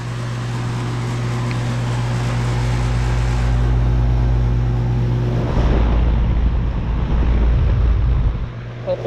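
A 2012 Bryant Legacy Line air conditioner runs with a steady, loud low hum and broadband fan whoosh. Partway through, the tone shifts and turns rougher and more turbulent, with light wind buffeting on the microphone.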